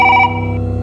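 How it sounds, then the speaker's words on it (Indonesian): A telephone rings loud and close, a bright electronic trill that sounds for a moment, falls away, then starts again at the end. "Ada telepon nih, Kak Yuta."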